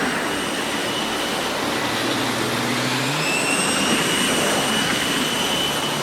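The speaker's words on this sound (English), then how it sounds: "When a crewman forgets to duck as he passes in front of the jet's engine, the power is enough to suck him into the intake." A jet engine runs steadily on an aircraft carrier deck, a loud continuous roar with a high whine holding for the full stretch, and no voices.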